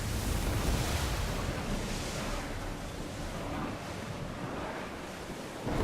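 Sea waves wash and rush in a steady, wind-blown roar around a ship sailing in Assassin's Creed Odyssey, a continuous wide ambience with no distinct events.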